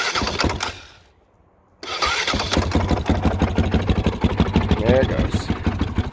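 A 2005 Honda CRF450X dirt bike engine cranks briefly, goes silent for about a second, then fires up and settles into a loud, steady, rapid idle close by, with a voice speaking over it.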